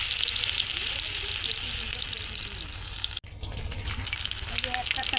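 Lobster prawn chops shallow-frying in oil in a pan over a low stove flame, a steady close sizzle that runs throughout with a brief break partway.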